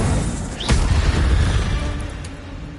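A fire spell blast from Hogwarts Legacy erupts in a sharp burst with a rising whoosh, followed by a sustained rumbling roar that slowly fades, heard alone without talk.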